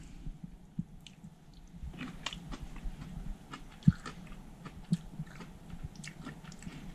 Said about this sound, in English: I'm just going to do a little taste test. Just try a green one.